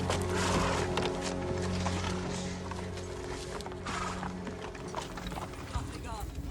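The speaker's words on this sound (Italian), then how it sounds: "Bond esce dal bosco e la sua fuga a cavallo termina più o meno in questo punto" A horse's hooves clip-clop on ground in the park of the Château de Chantilly, France, a fairly busy rhythmic pattern heard under steady voices and low background rumble throughout.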